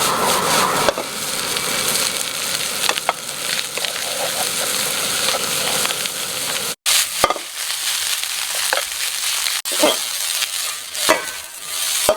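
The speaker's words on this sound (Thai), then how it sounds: "ผัดจนข้าวแห้งเป็นเม็ดๆแบบนี้เลยนะครับ" Crab fried rice stir-fried over high heat in a pan, loud continuous sizzling with repeated scraping and tossing clatter from the spatula, rhythmic and close, with no talk.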